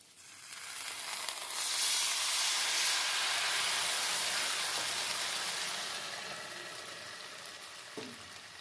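A loud, rushing sizzle bursts up as sauce hits fried eggplant in a hot pan, then slowly fades to a softer steady hiss.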